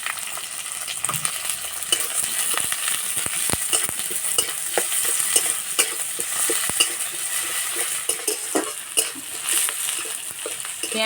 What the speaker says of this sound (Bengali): তেলে দেবো পেঁয়াজ কুচি